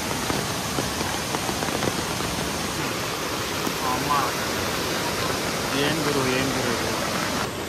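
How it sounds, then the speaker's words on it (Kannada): Heavy rain pours at Irpu Falls, a waterfall inside the Nagarahole forest, making a steady, dense, roaring wash of noise that fills the whole stretch with little variation, with faint tonal sounds near the end. "ಸಿಕ್ಕಾಬಟ್ಟೆ ಮಳೆ ಬರ್ತೈತೆ"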